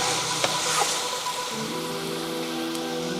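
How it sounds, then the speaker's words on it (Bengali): Spice paste for a potato and fish curry sizzles in oil, a steady dense frying hiss with a few faint scrapes, continuous and close. "তেলটা আমার ওপরে এসে গেছে এই যে মশলাটা দেখেন কি সুন্দর কষানো হয়েছে"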